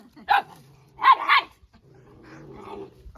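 A dog with an injured leg barks close by: one sharp bark, then two quick barks in a row, followed by a low, quieter growling rumble.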